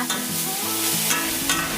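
Continuous sizzling as shallots stir-fry in a hot pan, with scraping stir strokes and a few clinks, close up and steady.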